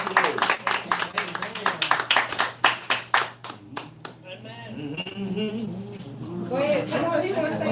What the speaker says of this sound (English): y'all give him a hand clap of praise